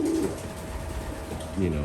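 Pigeons coo softly in a backyard loft, two short throaty calls at the start and end over low background noise.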